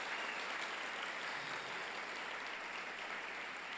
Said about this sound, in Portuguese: Você pode também dar uma salva de palmas a essa família pastoral abençoada.